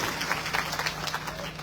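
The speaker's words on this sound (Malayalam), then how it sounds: "എനിക്ക് കൈയടിച്ച് ചെറിയ പ്രോത്സാഹനങ്ങൾ തരണം" Audience at a BJP party convention in Nilambur clapping steadily, a dense patter of many hands that fills the whole moment without letting up, with a faint crowd murmur beneath it.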